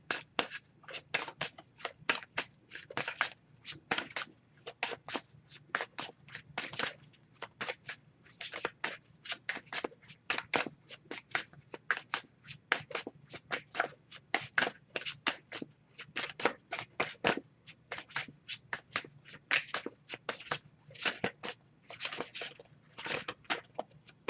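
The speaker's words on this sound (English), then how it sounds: "Just going to pull a single card from this deck." An oracle card deck is shuffled by hand, a quiet, close riffle of soft papery flicks and taps repeating in rapid, irregular bursts throughout, with no voices.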